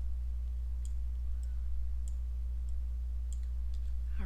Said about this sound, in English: Right mouse click, go to vertex, dragging a marquee.